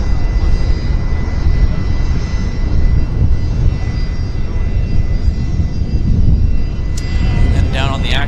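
An Embraer airliner taxis onto the active runway at Vancouver Airport on a windy day, a steady broadband engine roar with rumble holding throughout, and a brief higher whine near the end.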